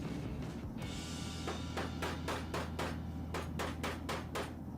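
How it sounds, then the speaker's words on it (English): Hammer taps wooden dowels into the underside of a scrap-wood desk, about ten sharp knocks in an uneven series with short pauses, close and clear over a steady low hum. "just tap this right into the bottom dowels on the bottom of the desk"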